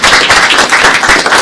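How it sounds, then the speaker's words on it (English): Board members at a governors' meeting clap together in a short, loud burst of close, dense handclaps with no talking over it. "I think we should all take an applause"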